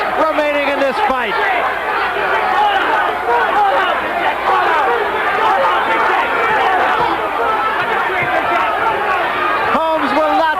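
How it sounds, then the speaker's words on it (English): Boxing arena crowd at the WBC heavyweight title fight between Larry Holmes and Michael Spinks, a loud, continuous roar of cheering and chatter that holds steady throughout with no gaps. "Listen to the crowd."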